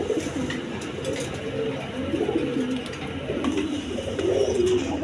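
Creambar-coloured exhibition pair of pigeons cooing in low, throaty bursts that rise and fall steadily, close and fairly loud against a faint background hiss.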